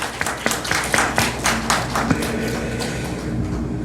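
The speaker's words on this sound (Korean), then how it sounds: "우리 하나님께 감사의 박수를 한번 올려드릴까요?" A church congregation claps together during a Sunday morning service, a burst of hand claps with a loose rhythm that peaks early and then fades over a few seconds.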